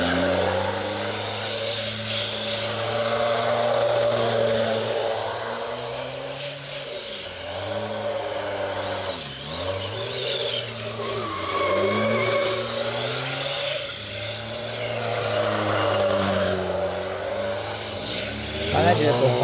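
A BMW M2 engine revs and drops repeatedly as it slides around a wet track in the rain, pitch swooping up and down over a steady roar.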